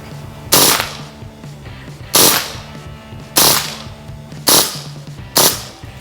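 Umarex M712 BB pistol firing on full auto in five sharp, loud bursts spaced about a second apart, each a crisp rapid crackle of shots that cuts off as the ammunition runs out.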